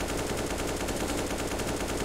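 Rapid automatic gunfire rattles continuously in a tactical team shooter match, dense, loud bursts filling the whole moment without any voices.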